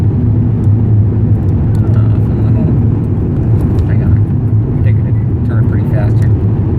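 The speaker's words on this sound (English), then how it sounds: "The car feels much more willing to accelerate with lower boost levels." A Volkswagen Mk6 GTI fitted with a K04 turbo pulls hard under acceleration, a loud droning engine and road roar heard from inside the cabin, with someone talking over it.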